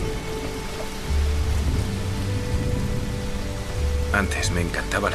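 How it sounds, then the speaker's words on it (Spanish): Rain falls in a drama film, a steady hiss of drops on surfaces that thickens after the first second, with a voice speaking briefly near the end. "Empieza a llover."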